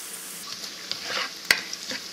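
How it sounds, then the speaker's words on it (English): Ginger, green chilies and onions fry in hot oil in a pan with a soft, faint sizzle, broken by light stirring scrapes and one sharp utensil tap. "So we'll fry ginger and green chilies along with onions."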